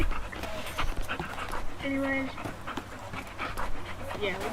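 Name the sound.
dog panting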